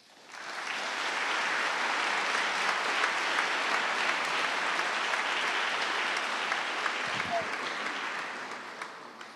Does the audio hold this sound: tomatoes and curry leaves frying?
no